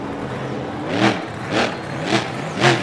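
Velociraptor monster truck in a BeamNG Monster Jam freestyle show at Grand Rapids, engine rising in four rhythmic revving surges over a steady loud drone.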